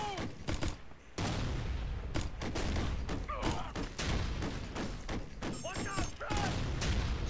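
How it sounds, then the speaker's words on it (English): Rapid bursts of gunfire from soldiers shooting at an armored personnel carrier in the video game Ghost Recon: Future Soldier, with dense, repeated loud shots and thuds continuing throughout, broken only by a brief lull near the start. "I like how we're just shooting at it."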